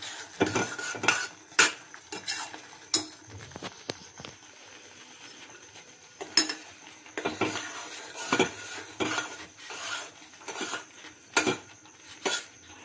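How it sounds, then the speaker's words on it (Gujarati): A jaggery sweet is stirred in a pan with ghee, a metal spoon scraping and clinking against the pan in irregular bursts, some knocks loud and close, with quieter gaps between them and no voices. "ઘી છૂટું કરે ને ત્યાં સુધી હલવા દેવાનું"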